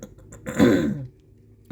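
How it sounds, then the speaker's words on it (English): A single gruff throat clearing, close and brief, in an otherwise quiet moment. "And clear my throat."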